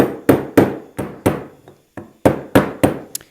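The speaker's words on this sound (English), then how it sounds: "I'm going to drift it down in there with a large socket, and then I'm just going to work the edge" A brake seal on a 1967 Porsche 911 is driven into place with a large socket, giving about nine sharp, close hammer strikes in an uneven rhythm, with one short pause.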